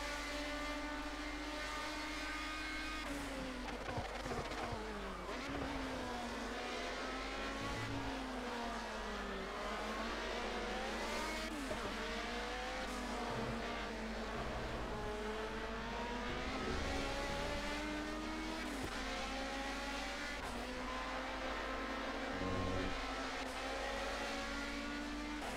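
A race car in the historic class at full throttle in Project Cars, its engine screaming and repeatedly climbing through the revs with gear changes, loud and continuous throughout.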